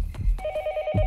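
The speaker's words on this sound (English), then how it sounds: "There's a phone near here somewhere. Oh, yeah, I hear it!" A telephone rings nearby in the Yomawari Night Alone video game, a short rapid trill of repeated electronic tones over dull low thuds.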